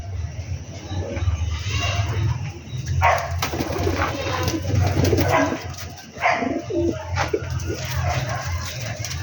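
Pigeons being paired up coo in low, steady murmurs, with several birds calling at once, an occasional brief wing flutter, and faint voices in the background.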